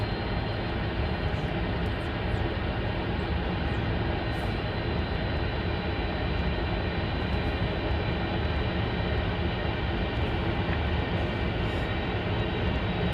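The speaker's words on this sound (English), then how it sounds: "the sound of a Boeing 747 going through this street" A Boeing 747's engines roar in a loud, continuous, broadband rumble that holds steady without fading, like a large plane passing low overhead, played back through a street speaker array.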